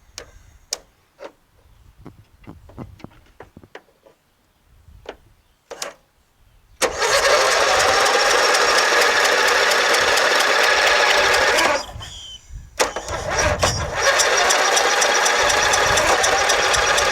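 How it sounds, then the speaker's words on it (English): A Craftsman LTS1500 lawn tractor with a 17.5HP engine first gives several scattered clicks, then cranks in a loud, steady whirring spell lasting about five seconds. A short pause follows, then it cranks again without starting. "Alright, you guys think it'll start? Just see if it turns over, okay?"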